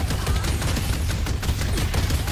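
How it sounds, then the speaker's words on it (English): Automated turrets from McGinnis in the video game Deadlock fire continuously while clearing jungle camps, a steady dense rattle of rapid shots with a heavy low rumble that holds at even loudness throughout. "you can just hear the turrets are just jungling for us"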